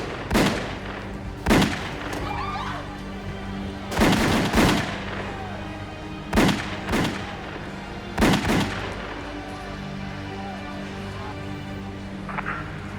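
Several men shoot guns in a dramatized reenactment of a mob hit outside a Manhattan restaurant, with sharp cracks in scattered bursts of one to three shots, loud and echoing over a low background hum.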